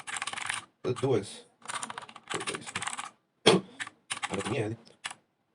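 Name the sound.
typing a git commit message on a computer keyboard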